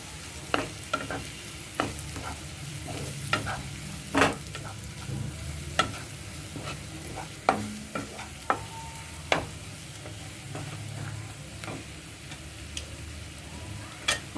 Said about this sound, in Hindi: अब हम इसके अंदर डाल रहे हैं हल्दी और डाल देंगे दोनों लाल मिर्चें, तीखी और कश्मीरी, और थोड़ा सा इसके साथ पकाएंगे।